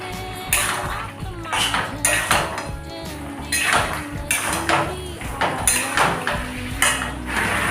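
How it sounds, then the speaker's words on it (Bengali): Chilli chicken in tomato sauce is stirred in a pan, a utensil scraping and clanking against the metal in a steady, repeated rhythm, close and fairly loud with sizzling underneath. "এরপর দেবো টমেটো সস, দিয়ে ভালো করে নেড়ে নিতে হবে"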